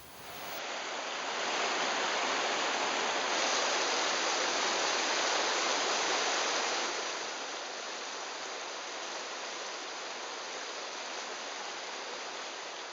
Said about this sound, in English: a stable shingle bed, free of siltation and in a fast, clean flow of highly oxygenated water